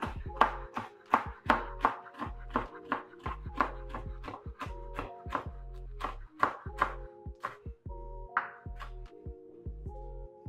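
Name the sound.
chopping cooked bacon into pieces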